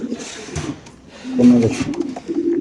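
Black racer pigeons in a cage give a few soft throaty coos, close by, with faint rustling between calls.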